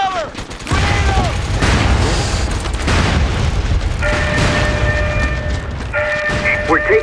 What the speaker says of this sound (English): Grenade up! Take cover!